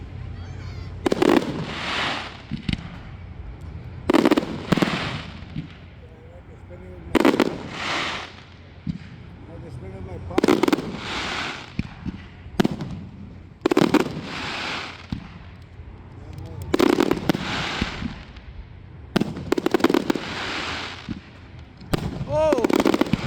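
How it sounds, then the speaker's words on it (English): Fireworks at a Nickel Days overnight celebration pop and crackle in repeated sharp, gunshot-like volleys a few seconds apart, loud and fairly near, with occasional voices between bursts. "The gunshot fireworks."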